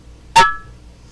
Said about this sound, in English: This sound signifies that this jar has sealed.